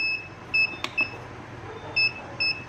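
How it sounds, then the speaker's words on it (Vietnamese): A P290 vacuum sealer with a dead pump beeps an error alarm in short, sharp double beeps repeated several times, close and clear over faint room noise, with one brief click. "nó báo lỗi rồi, nó kêu tít tít rồi"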